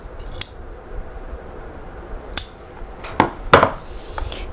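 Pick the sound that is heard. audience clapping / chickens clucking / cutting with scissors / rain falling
cutting with scissors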